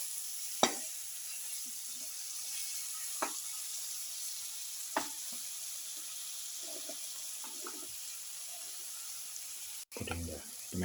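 A salted mixture of bottle gourd and potato fries in a pan with a steady bright sizzle, sharp scattered clinks of stirring and a brief clatter near the end, with some talk in the background.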